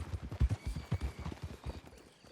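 Horse hooves trot in a steady clip-clop rhythm in Red Dead Redemption II, fairly close and moderately loud, with a faint ambient bed behind the footfalls.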